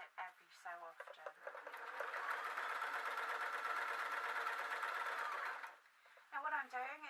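Sewing machine stitching a cross-over blouse, a steady loud motor whir running several seconds between short bursts of talk at the start and end.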